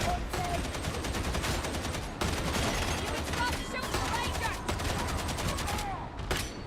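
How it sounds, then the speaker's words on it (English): Gunfire from a big single-shot grenade launcher and other weapons in the video game Darktide, a dense, continuous barrage of loud shots and blasts with game effects throughout, and a voice faintly present underneath. "It's a big single shot grenade launcher."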